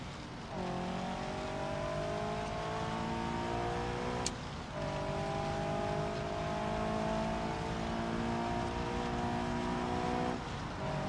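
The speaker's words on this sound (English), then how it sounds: "It sounds like I'm dragging half the car along." A badly damaged car in the BeamNG driving game holds a steady engine drone while loose body parts scrape and rattle along the ground throughout, with a brief sharp knock partway through.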